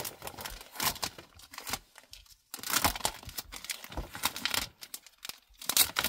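Sheets of acetate confetti paper with little hearts crinkling and rustling in sharp, irregular bursts as they are handled up close, with a brief quiet gap partway through.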